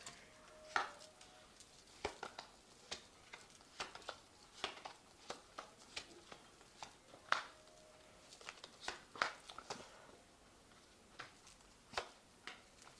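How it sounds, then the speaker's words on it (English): A Pagan Tarot deck being shuffled by hand, giving a series of soft, irregular card riffles and taps spaced about every second, quiet and close with no talking. "Now I have shuffled this deck."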